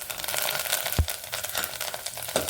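Spices, turmeric and homemade garam masala, sautéing in hot oil for a Marathwada urad dal curry, giving a steady, close sizzle and crackle with a brief stirring clatter.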